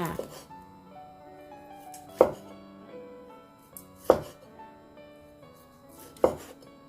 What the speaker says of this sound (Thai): นี่เราก็จะมาหั่นหมูสามชั้นเพื่อ เตรียมเสิร์ฟกันค่ะ